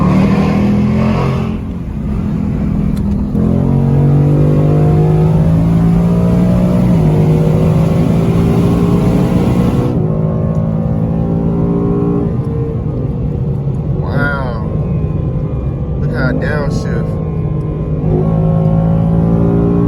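A 2020 Ford Mustang GT with a 10-speed transmission pulls hard through a tunnel, its engine roaring loud and close and rising through several gear changes, the sound echoing off the walls.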